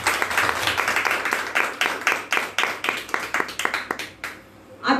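Clapping rises from a women's Mangalagaur cultural gathering, a crisp run of fairly even, rhythmic claps that thins out and stops near the end.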